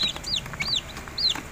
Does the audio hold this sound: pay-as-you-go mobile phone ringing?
no